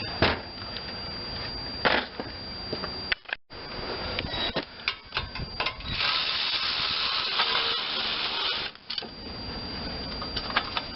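A ratchet wrench clicks steadily while backing a bolt out of an Ariens 30-inch snowblower with a Briggs and Stratton engine, in bursts of rapid ticking broken by short pauses, close and fairly quiet.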